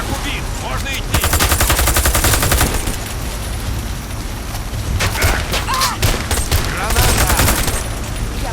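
Dense video game gunfire with bullets whistling past, rapid crackling volleys in long stretches, loud and close, with brief quieter gaps between bursts.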